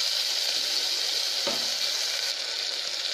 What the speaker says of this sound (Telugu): నేను పొటాటో పీసెస్ వేసాను, ఇది కూడా కొంచెం ఫ్రై చేసుకుందాం